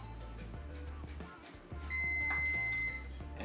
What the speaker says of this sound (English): And there we go, our timer is done.